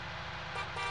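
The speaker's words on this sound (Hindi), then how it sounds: "तो आज नया हॉर्न लगाया भाई इसके अंदर," A musical horn on a John Deere 5085M tractor in Farming Simulator 19 plays a steady, loud, close tone over the engine's low rumble, with no talk.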